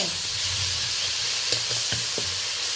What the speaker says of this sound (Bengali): 2-4 বার আমি হালকা হাতে নেড়ে নিচ্ছি।